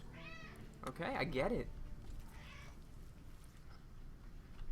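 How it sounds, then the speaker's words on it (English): An angry house cat, locked out of a room, lets out a few loud, drawn-out complaining meows close by, followed by a brief spoken comment from a person and then a quiet room. "Cat's angry because she was locked out of the room."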